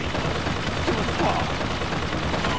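Dense, continuous automatic gunfire from an enemy shooting in BioShock Infinite, a steady loud rattle with distant booms blended into the game's noise.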